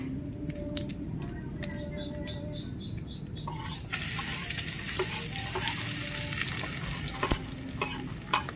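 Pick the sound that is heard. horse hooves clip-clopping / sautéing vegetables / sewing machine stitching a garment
sautéing vegetables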